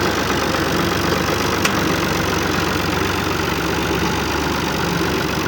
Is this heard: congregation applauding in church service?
no